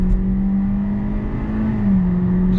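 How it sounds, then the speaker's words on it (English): A 2021 Hyundai Elantra engine held at high RPM under hard acceleration on open road, a loud, steady droning whine from inside the cabin that dips slightly in pitch near the end, with no talking. "I can give you an impression of that engine sound at high RPM."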